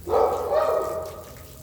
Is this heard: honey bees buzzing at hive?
no